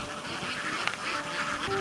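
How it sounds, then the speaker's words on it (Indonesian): Farm ducks kept in a pen quack in a dense, continuous chatter, with one slightly clearer call standing out near the end over steady background noise. "Justru ia disuruh orang tuanya untuk memelihara bebek."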